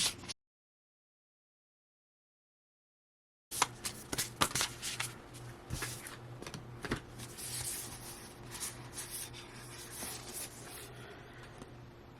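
After a moment of silence, a deck of oracle cards is shuffled up close: rapid, crisp papery riffles and slaps over a faint steady hum, with no voices.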